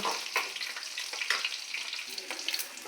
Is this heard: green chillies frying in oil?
yes